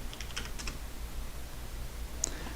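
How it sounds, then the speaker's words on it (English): Faint keystrokes on a computer keyboard as a git command is typed, a few soft clustered clicks early on and one sharper tap near the end, over steady low room hum. "and then type git status"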